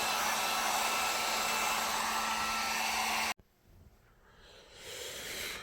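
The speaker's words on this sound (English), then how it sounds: "now I'm going to dry them out with a heat gun" A heat gun blows warm air over wet leather moc toe boots, giving a loud, steady blowing roar that cuts off suddenly, followed by faint rustling and a softer airy rise.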